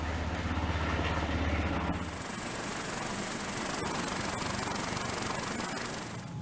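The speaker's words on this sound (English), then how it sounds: "U.S. Coast Guard helicopters perform overflights to survey the damage" A U.S. Coast Guard helicopter flies overhead on a storm damage survey, a steady loud rotor and engine drone with a high whine that swells after the first two seconds and holds, with no talk.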